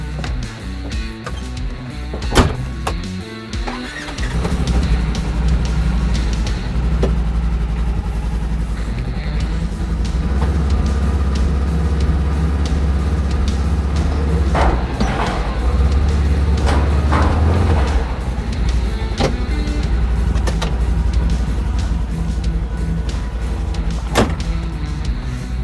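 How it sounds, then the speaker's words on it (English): A vehicle drives off the back of a RampTek trailer, opening with a few clunks and a mechanical whir before a steady low engine rumble carries on loudly for the rest of the stretch, with occasional knocks and rattles. "Now you just drive off the back."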